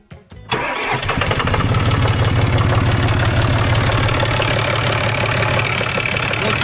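A John Deere tractor engine cranks briefly, catches and fires up, then settles into a loud, steady, close idle with a rough knocking diesel clatter, and no one speaks.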